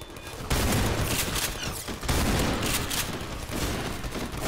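Enemy gunfire in the Garry's Mod co-op game, loud bursts of rapid shots in several volleys, close and dense with no voices over it.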